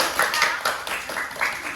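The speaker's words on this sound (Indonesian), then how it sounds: "Oke, tepuk tangan dulu dong." A group of students in a classroom clap together in a short burst of quick, overlapping claps, fairly close.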